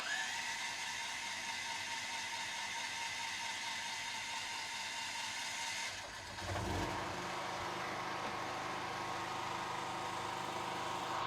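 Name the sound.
home generator set starting and running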